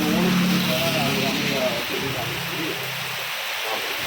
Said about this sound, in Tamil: மழை பார்த்தா நிற்கிற மாதிரியே இல்லை.